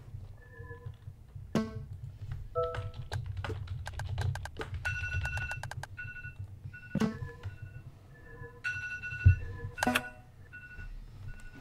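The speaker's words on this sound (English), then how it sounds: "My cell phone just went off." A cell phone goes off in the video game Simulacra with a string of bright electronic beeps and chiming tones, some in quick clusters, over a steady low hum.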